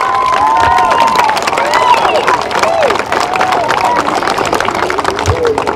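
Loud audience applause and cheering at a school ribbon-cutting event, continuous clapping mixed with whoops, children's shouts and excited voices, sustained at a steady level throughout.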